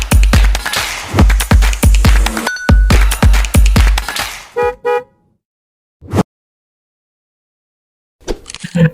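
A car horn used as a podcast intro effect gives a series of loud, close honks in quick rhythmic bursts, then a pause and one more short toot, followed briefly by other sound near the end.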